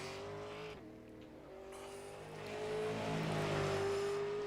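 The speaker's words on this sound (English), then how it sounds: "Tyler Johnson is going out. He's going to give it a shot in the number 5 car." The number 5 race car drones steadily on a short, narrow track during qualifying, its engine tone holding then rising louder as it approaches, with no talk over it.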